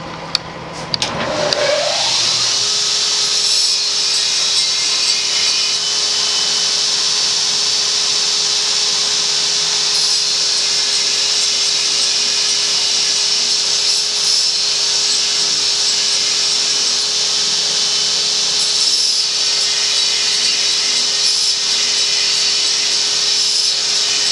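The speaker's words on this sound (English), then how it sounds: "I'm going to clean the forward scale or the middle scale off the wheel" A grinder wheel cleans scale off a hand-forged Damascus billet, giving a loud, continuous whine and rasp that spins up in the first seconds and then holds steady throughout, with no talking.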